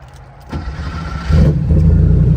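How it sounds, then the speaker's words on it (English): A 1986 Porsche 911 Slant Nose with an aftermarket muffler system cranks briefly, then its engine catches and settles into a loud, close, steady rumbling idle. "This thing fires right up and sounds amazing"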